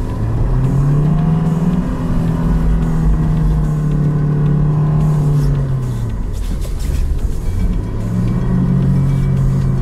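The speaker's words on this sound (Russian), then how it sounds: "Включаете пониженный ряд передач, и она у вас едет." A Lada Niva engine labors in low-range gear, a loud steady drone whose pitch sags and rises with throttle changes, continuous and close throughout with no voices.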